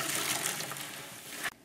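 Water squeezed from a foam sponge gushes and splashes steadily for about a second and a half, close and fairly loud, then cuts off abruptly with a brief drip.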